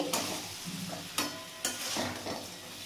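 Small morola fish are stirred into frying spice paste, with a few distinct scraping strokes of a spatula over a continuous close sizzle.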